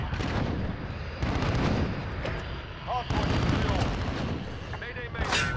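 Gunfire and explosions in Call of Duty: Modern Warfare, sustained loud bursts of shots and blasts in dense layers throughout, with players talking over the action.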